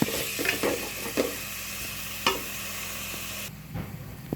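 Ginger garlic paste mixed with curd sizzles in hot oil in a pan for a biryani, with a steady hiss broken by a few stirring clicks, close and moderately quiet, fading softer near the end.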